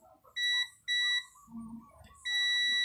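Digital multimeter in continuity mode beeping across the legs of a shorted capacitor during repair work, three loud high steady tones in separate bursts, with faint talk between them.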